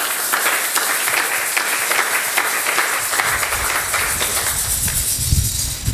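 A church congregation clapping and applauding loudly, a dense, sustained roar of many hands filling the space, with some lower voices joining in toward the end.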